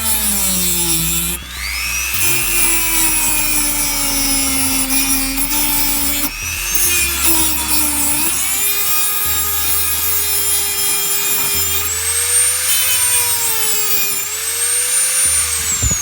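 A power cutting tool, likely an angle grinder, slices through metal at the back of a grain side tip trailer, a loud, continuous, close high-pitched whine that shifts in pitch as the load changes, with brief dips.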